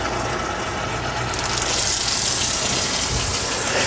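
Water is poured steadily into a bowl of cake mix, making a continuous close gushing splash with no talking.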